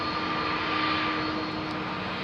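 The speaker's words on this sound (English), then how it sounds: "A330 into shot because she's a beautiful aeroplane." An Airbus A330 airliner on Heathrow runway 27R gives a steady, loud engine roar with a high whine on top, sustained throughout with no speech.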